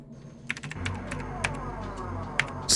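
Rapid clacking of computer keyboard keys in the video game DarkSeed 2, a quick burst of uneven clicks with a few sharper strikes, heard clearly against a steady low background hum.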